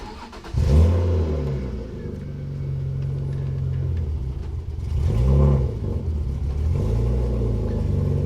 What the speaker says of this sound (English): It starts up every time I put the key in the ignition, and just runs great